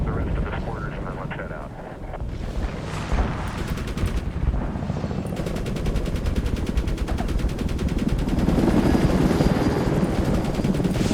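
AH-64 Apache helicopter combat in the 2010 Medal of Honor video game, with a loud continuous rotor drone, rattling machine-gun bursts and explosions building toward the end.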